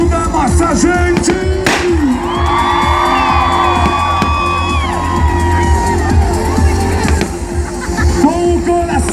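A festival crowd at the lighting of a huge bonfire in Pirapozinho, Brazil, cheers, whoops and shouts, loud and dense throughout, with scattered yells and whistles rising over the steady roar.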